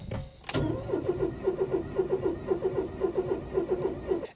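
A Ford Fiesta Mk3 with a choke cranks on a crisp November morning without catching, beginning with a sharp click and then a steady rhythmic churning of the starter motor, close and fairly loud.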